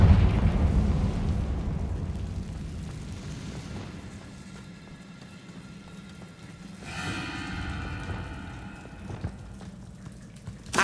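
A Confringo spell explosion in the Hogwarts Legacy video game opens with a loud booming burst that fades into a crackling, rain-like rumble, followed by later sparkling, ringing magical effects.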